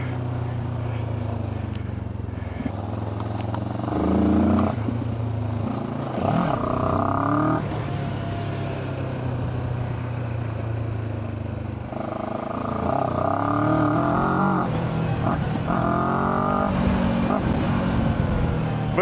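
QJ Motor SRT 700 SX 700cc motorcycle engine running steadily up close, with strong low rumble and repeated rises in pitch as it revs and shifts through the gears.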